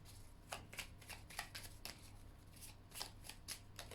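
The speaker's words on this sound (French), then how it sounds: "Pourriez-vous faire sauter les cartes, s'il vous plaît?" Tarot cards shuffled close by, a run of crisp riffling bursts repeating in a steady rhythm against a low hum, with no talking.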